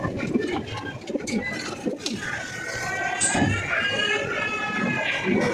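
Jalali pigeons coo in soft rolling repeated calls, layered with other birds close by, while a voice talks over them almost throughout.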